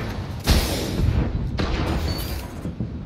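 A grenade explosion in the video game Destiny during a Trials of Osiris match, a loud boom followed by a second blast and rumbling gunfire-like noise.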